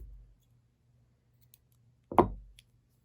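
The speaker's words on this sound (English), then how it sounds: "Then you're going to cut your yarn." Scissors cut through yarn during a crochet project, giving a single close, crisp snip in an otherwise quiet room.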